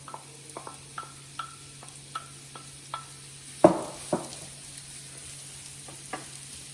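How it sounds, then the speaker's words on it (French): Thinly sliced onions fry gently in rendered fat in a sauté pan, giving a soft steady sizzle with light scattered clicks and one louder scrape of stirring partway through, up close. "Je vais pouvoir faire colorer, mais vraiment très légèrement, mes oignons émincés"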